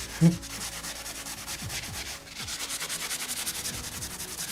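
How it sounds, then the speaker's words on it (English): A Scotch-Brite pad scrubs a maple guitar neck wet with naphtha in steady, soft rhythmic rubbing strokes, close but fairly quiet, with a faint knock at the start. "So just clean the board with a Scotch-Brite pad and some naphtha"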